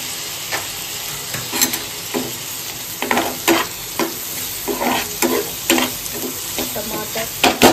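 Tomatoes sizzle and fry in oil in a pan for paneer bhurji, with a spoon stirring in repeated scraping bursts over a constant close hiss.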